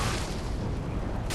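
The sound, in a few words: fireball explosion in Dark Souls III video game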